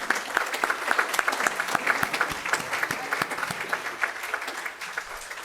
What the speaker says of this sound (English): Let's give Emily another round of applause, please.